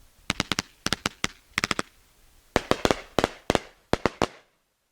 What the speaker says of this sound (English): it was throwing fireworks into the air